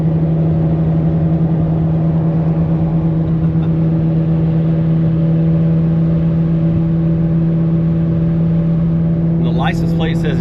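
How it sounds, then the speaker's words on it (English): A muscle car engine drones steadily and loudly from close behind during a street car takeover event, with a constant low hum and road noise throughout and a brief rising whine near the end. "Got some muscle car action coming up behind us."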